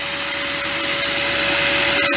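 A wet-dry vacuum sucks on an outdoor air-conditioner condensation line, a loud, steady whine with a constant pitch, close by, with a brief gulp of air near the end.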